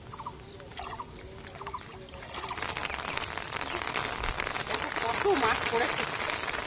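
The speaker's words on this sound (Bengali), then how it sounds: "আমরা অদূরে শুনতে পাচ্ছি বৃষ্টির আওয়াজ" Heavy rain on a fishing day in the Sundarbans: a steady hiss that swells into a dense, loud downpour, with voices faintly underneath.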